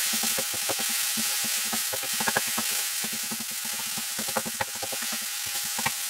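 Eggplant gratin sauce sizzles in a pan as it simmers and thickens, a constant hiss broken by frequent small bubbling pops and crackles, close and moderately loud, with no voices.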